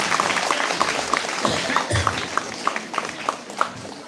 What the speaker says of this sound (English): give them again a very big applause